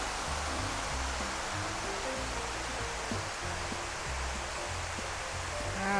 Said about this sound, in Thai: เห็นน้ำตกเป็นสายเลยอ่ะ